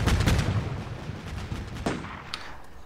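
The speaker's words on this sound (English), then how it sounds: "I heard cannon going off somewhere else" Cannon fire booms in a military video game, a heavy close blast followed by a few sharper distant reports that fade out over a couple of seconds.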